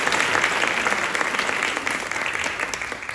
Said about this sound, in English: so a big round of applause for that.